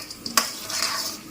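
Black soybeans sizzling in hot oil in a kadai, with a steady fry hiss, a few sharp pops and one loud crack as a utensil stirs them.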